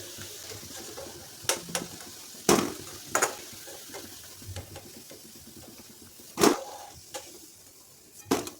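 Potato pakoras crisping in hot oil give off a soft, steady sizzle, broken by several sharp clicks and clatters from stirring or turning them in the pan.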